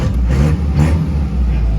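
A 2008 Troller T4 off-roader with a 3.0 diesel engine of 163 hp revs up in a few close, loud throttle blips over a steady low idle rumble.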